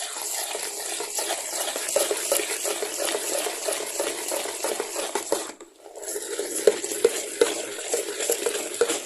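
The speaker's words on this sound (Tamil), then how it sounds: "இது நல்லா மிக்ஸ் பண்ணுங்க." A homemade vehicle-washing soap mixture made with water and urea is stirred steadily in a container, giving a continuous swishing, sloshing wash broken by a brief pause and a few sharp knocks against the side.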